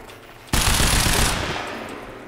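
Rapid automatic gunfire in the video game Quantum Break erupts suddenly after a quiet moment, a loud, dense burst that runs for nearly two seconds and tails off slightly toward the end.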